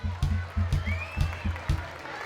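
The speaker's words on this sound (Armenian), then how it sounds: "Ծափահարենք։" A crowd applauds at a town day celebration marking the 69th anniversary of Vayk, with steady clapping over a rhythmic, thumping low beat that pulses about twice a second.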